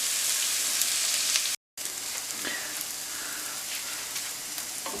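Bacon and bean sprouts sizzle and crackle loudly and steadily in a hot pan during a stir fry, close by, with one brief cut to silence partway through.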